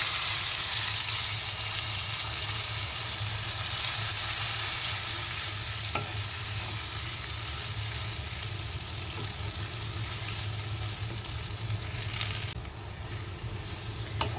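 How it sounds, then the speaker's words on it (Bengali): Ginger and spice paste for a koi fish curry fry and are stirred in a pan, a steady close sizzle with scraping stirs running throughout and a brief clink near the middle. "মশলাটা ভালোভাবে কষে আসা পর্যন্ত একটু ধীরে ধীরে আঁচে কষিয়ে নিতে হবে।"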